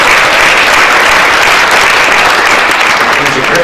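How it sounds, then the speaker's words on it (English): A crowd at a mayor's speech applauds loudly and continuously, a dense wash of clapping filling the whole stretch without pause. "Let's give Chuck another round of applause."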